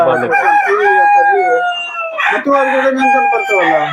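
A native chicken rooster on a small Udupi poultry farm crows up close, two long drawn-out calls in a row, loud and clear.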